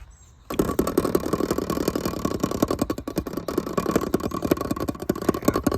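Small, fuel-efficient Nissan car with about 90,000 miles starts up after a brief quiet moment, then settles into a close, steady idle with a rapid rhythmic pulsing chug that continues throughout.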